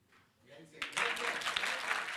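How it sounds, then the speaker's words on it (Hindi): Applause from a studio audience at a heated televised debate about an India-Pakistan cricket match, swelling from quiet into a loud, dense burst of clapping that carries on steadily. "तालियों की गूंज आ रही है उस तरफ से"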